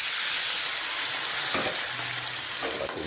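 Fish frying in a pan gives off a steady, close, broadband sizzle and hiss, with a couple of faint clinks partway through and no voices.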